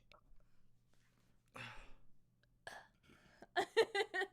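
A person lets out a burp during a couch co-op gaming session at home, with soft voices and whispering around it and a few sharp vocal bursts at the end.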